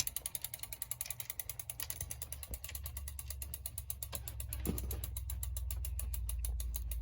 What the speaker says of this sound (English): I like this tiny little ratchet wrench because it allows me to get into really tight spaces